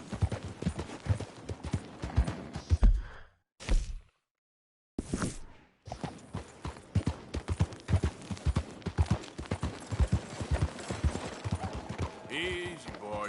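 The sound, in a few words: horse hooves clip-clopping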